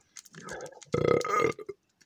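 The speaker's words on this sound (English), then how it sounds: "There's another burp for you." A loud, drawn-out burp close to the mic, rumbling for about a second with a couple of short gulping sounds on either side.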